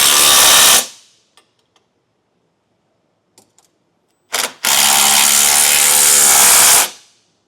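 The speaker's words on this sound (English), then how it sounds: "So we'll tighten down our side bracket hardware with a" A 19mm socket and wrench tighten the side bracket hardware of a towing base plate kit on a 2022 Chevrolet Equinox, heard as two loud, sustained whirring bursts with brief faint clicks in the quiet between them.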